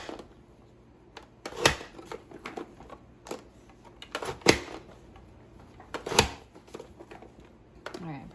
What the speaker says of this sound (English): I can plow through this whole bucket in just a matter of minutes by using this little chopper